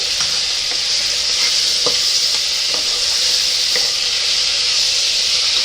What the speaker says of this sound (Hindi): देखो, अभी टमाटर डालेंगे। टमाटे को भी अच्छे से भुनेंगे।